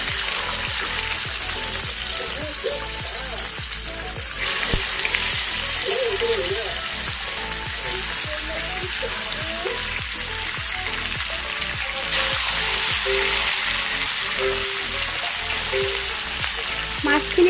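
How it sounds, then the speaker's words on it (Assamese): Fish frying in hot oil in a wok sizzles loudly and steadily throughout, with crackling spatters and a person talking over it. "মাছখিনি বাৰু ফ্ৰাই কৰি লওঁ ভালকৈ।"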